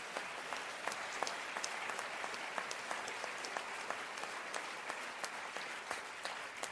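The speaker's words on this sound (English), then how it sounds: "Give me a round of applause for that idea." Audience applause at a talk on inclusive excellence, a steady dense wash of many hands clapping, fairly faint and distant, with no talk over it.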